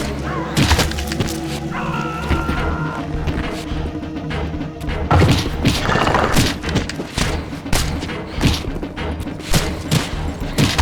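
Explosions and impacts in the video game Legacy of Kain: Defiance, heavy thuds and crashes bursting repeatedly over a dense, loud game soundtrack and effects throughout.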